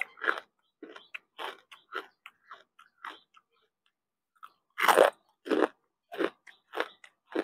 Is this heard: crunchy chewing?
yes